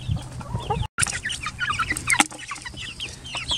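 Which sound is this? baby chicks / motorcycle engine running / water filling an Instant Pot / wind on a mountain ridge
baby chicks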